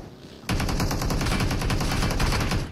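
Video game automatic gunfire, a rapid continuous burst of shots that starts abruptly and holds loud for about two seconds before easing off.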